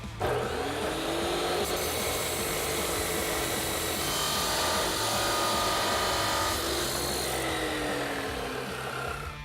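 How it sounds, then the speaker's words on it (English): A saw cuts through a Tacoma exhaust inlet pipe, giving a steady, loud, continuous grinding whine that holds for about nine seconds without pause. "head over to the saw, and make our cut"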